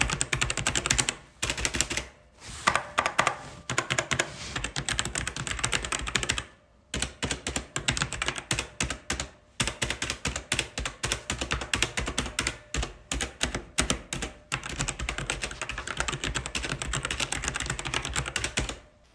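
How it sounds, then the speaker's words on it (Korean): Steady, fast typing on a Philips G614 mechanical keyboard, close and crisp, with rapid clicky keystrokes in bursts separated by a few short pauses. "한번 제가 조용히 타이핑을 해볼 테니까 맞춰보세요."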